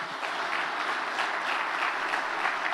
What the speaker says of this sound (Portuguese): Eu queria que a igreja aplaudisse essa gente.